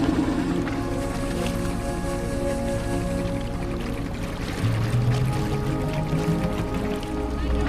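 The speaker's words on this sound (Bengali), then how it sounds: "আমাদের এই 40টা ঘাট ঘোরাবে এই নৌকো করে।" A boat ride on the Ganges setting out from Dashashwamedh Ghat in Varanasi, with steady water wash, a continuous low engine-like drone and faint crowd murmur carrying across the river, without a clear voice.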